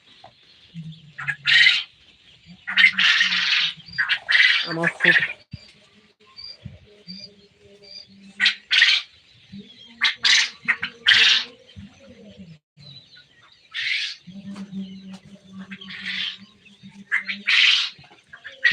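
Tiger chicken chicks at a poultry farm let out bursts of high, shrill peeping alongside lower clucking, coming in clustered runs with short pauses, while a person speaks briefly.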